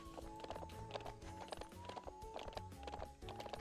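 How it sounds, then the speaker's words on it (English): Video-game horse sounds from a ranch game: rhythmic clip-clop hoofbeats with a soft whinny, moderately quiet and evenly paced throughout the short stretch, with no one talking over it. "That is the sweetest little sound, by the way, when your horse sees you and it just goes."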